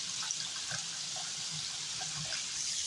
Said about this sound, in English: fill it up with water and let it soak